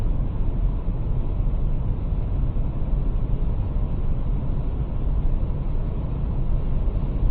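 Steady broadband road and engine roar inside a Dacia Duster Hybrid 2024 with a 140 HP four-cylinder naturally aspirated engine, cruising at night around 100, loud and unbroken with no voices.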